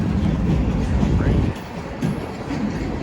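A CPKC freight train rumbles past nearby on the International Bridge at Unity Island, with loud continuous rolling noise that drops off partway, then faint clatter and brief squeals of wheels.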